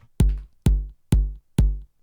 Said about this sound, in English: for the kick, we're going to select all of these points so that when we press play or spacebar, we have a kick loop